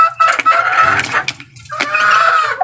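Hen and chicks pecking at banana mixed with rice, close and fairly loud, with shrill, wavering peeps and clucks overlapping in quick bursts.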